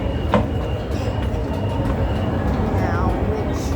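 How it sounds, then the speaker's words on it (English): A Sydney Waratah train arrives at a station platform with a constant close rumble and a brief squeal of wheels, and people talk over it. "Our train's coming, our train's coming."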